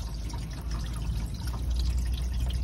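Water leaking through a Mustang convertible roof drips and trickles steadily into a trough behind the seats, a continuous close wet patter with dense small drops and no voices.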